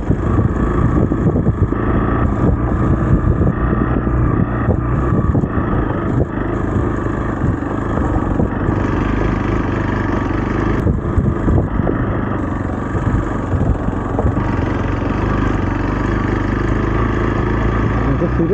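Hero Xpulse 200 motorcycle engine droning steadily and loudly throughout a ride on a winding road, with wind rumble and no pauses.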